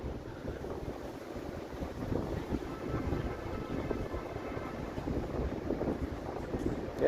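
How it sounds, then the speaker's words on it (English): Wind gusts rush across the microphone on a breezy Sunday afternoon on a Toronto city street, a continuous blustery roar that swells and eases with rumbling buffets and no clear speech. "Yeah, this is a very breezy day here."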